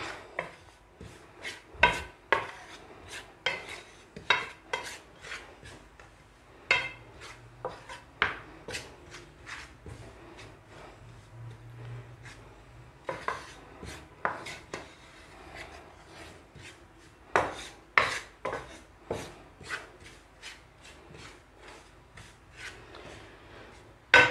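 Dry bran and flour are stirred together in a bowl, giving a run of sharp scraping and tapping strokes in an irregular rhythm, close and moderately loud, with faint low rumble in places and no talk.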